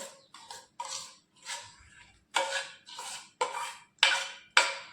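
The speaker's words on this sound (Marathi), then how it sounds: "आणि हे मिश्रण आपण यात ओतून घेतोय." A raw mango pulp and jaggery mixture is poured from a vessel into a mixer jar, heard as about nine short, close clinks and scrapes of utensil against metal, separated by brief pauses and fairly quiet, with no talking.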